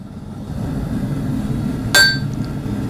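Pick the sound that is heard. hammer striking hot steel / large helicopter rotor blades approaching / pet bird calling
hammer striking hot steel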